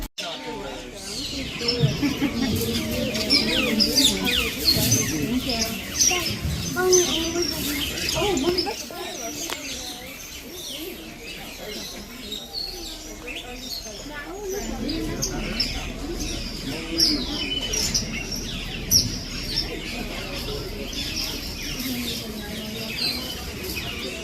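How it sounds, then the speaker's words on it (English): Birds chirp and coo throughout an indoor aviary room on the Maharajah Jungle Trek walkway, steady busy calls mixed with crowd chatter and people talking nearby. "let's make our way into the bird room then"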